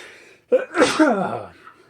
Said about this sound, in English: I'm doing this in one take, so that sneeze will be included.